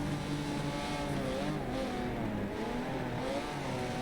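McLaren and Ferrari race cars dice in a racing video game, their engines roaring close together at high revs with rising and falling pitch through a corner, a loud, continuous mechanical drone.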